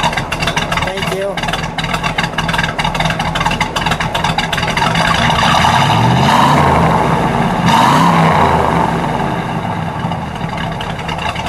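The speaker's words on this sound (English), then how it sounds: "we'll give it a good rev" A running 1966 Oldsmobile 442 W-30 V8 engine rumbles steadily, then is revved up and back down in a couple of swelling surges, close and loud, with some talk over it.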